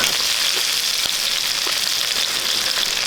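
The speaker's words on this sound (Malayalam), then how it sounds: "നമുക്ക് കുറച്ച് വെളിച്ചെണ്ണ ഒഴിച്ചു കൊടുക്കും കുറച്ച് കടുക് ഇട്ട് കൊടുക്കും കാൽ ടീസ്പൂൺ ജീരകം" Mustard seeds and cumin sizzle in hot coconut oil in a pan for a Kerala tapioca and chickpea dish, giving a steady, bright, continuous frying hiss with faint crackles and no voices.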